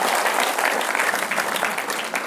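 Audience applause, a dense continuous burst of many hands clapping, loud and close, with no voices standing out.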